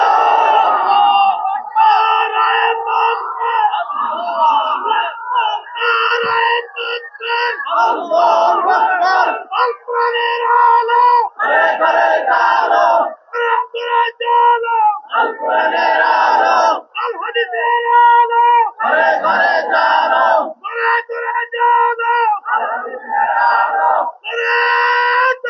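A large crowd chants the takbir in loud, repeated unison bursts separated by short pauses. The chant is forceful and close and continues over about 25 seconds.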